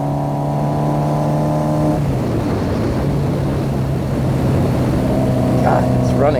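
A cafe racer motorcycle engine pulls steadily on a ride, its loud droning note stepping down in pitch as the rider shifts, then climbing again, all wrapped in constant rushing wind.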